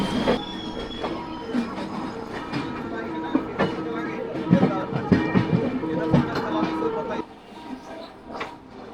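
A passenger train running past Vijayawada station rumbles from onboard, with clattering wheels, brief squeals and rhythmic clacks, loud and continuous, settling quieter near the end; a voice speaks over it.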